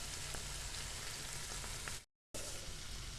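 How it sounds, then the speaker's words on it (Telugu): Chicken liver fries with salt in a pan, giving a steady, dense sizzle that stays loud and even throughout, broken only by a brief moment of silence. "ఇట్లా ఈ విధంగా మొత్తం ఈ విధంగా ఫ్రై చేసుకుందాం"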